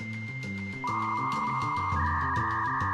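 A dial-up modem connects to the internet over a phone line with steady tones that shift in pitch and a harsh, busy digital chatter beneath, loud and continuous with no voices.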